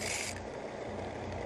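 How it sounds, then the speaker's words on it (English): Steady rasping scrape of sanding a cow horn, continuous and close, with a brighter hiss at the start that eases into an even abrasive rub. "cow horn, and I'm sanding it down."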